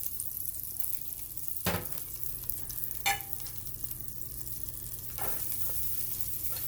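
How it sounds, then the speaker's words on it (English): Shallot and fresh garlic sauteing in drained olive oil and butter, a steady close sizzle broken by a few sharp utensil scrapes and clinks as the pan is stirred, no voices. "I'm going to use that to saute my shallot and my"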